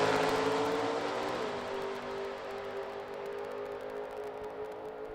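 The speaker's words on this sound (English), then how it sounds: "Jason DeForest has his Camaro lined up left side alongside the Firebird of Ron Richards" A Chevrolet Camaro and a Pontiac Firebird launch side by side at a drag race, their engines roaring loudly at first, then droning and fading steadily as the cars pull away.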